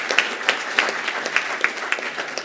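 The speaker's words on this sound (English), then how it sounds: "I just want to give a round of applause to first place" Audience applause at a security conference closing ceremony for capture-the-flag winners, a brief steady patter of clapping with a few louder, rhythmic nearby claps.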